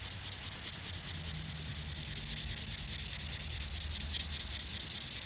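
Steady, close hand sanding of an opal stone with a sanding pad, a continuous dense rubbing hiss with no pauses, the stone rolled and angled as it is worked.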